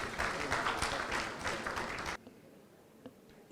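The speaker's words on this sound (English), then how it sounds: "we need to clap a little more." Rotary fellowship audience from a joint Thursday club meeting of Districts 9213 and 9214 claps in a dense burst of applause that cuts off sharply after about two seconds, leaving a quiet room.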